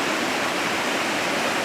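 Water rushes steadily down a tributary stream swollen after rains, a constant broadband hiss with no breaks, close and fairly loud, and no voices.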